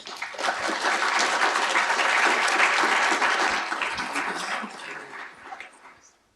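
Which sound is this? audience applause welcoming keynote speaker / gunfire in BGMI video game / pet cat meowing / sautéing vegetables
audience applause welcoming keynote speaker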